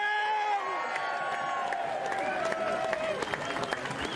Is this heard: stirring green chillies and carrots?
no